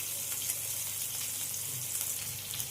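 Surmai fish frying in a pan gives a continuous hissing sizzle, even and fairly close throughout, with no voices.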